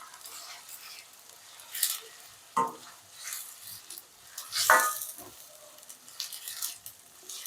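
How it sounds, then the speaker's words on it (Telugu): Fresh ginger-garlic paste frying in a pan for a spicy fish pulusu, with a soft continuous sizzle broken by a few sharp scrapes of stirring. "అల్లం వెల్లుల్లి పేస్ట్ వేశాక కొంచెం ఫ్రై చేద్దాం"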